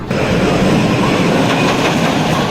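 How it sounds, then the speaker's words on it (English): Thundercoaster wooden roller coaster train at Tusenfryd, ridden from the front row: a loud, continuous rumbling roar of the train running along the track, with no voices. "Time for one last ride on Thundercoaster on the front row."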